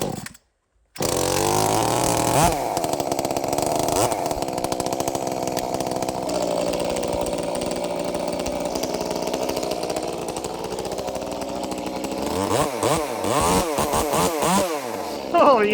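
An Echo 2511T chainsaw engine runs steadily and loudly, idling and revving slightly, with a brief quiet gap at the start and some higher revving toward the end.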